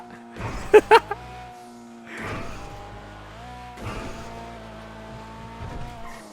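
A tuned car in GTA V revs and skids with squealing tires, three separate bursts of engine and tire noise spaced a couple of seconds apart, loud and close, with a voice talking faintly at times.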